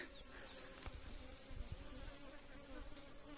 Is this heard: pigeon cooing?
no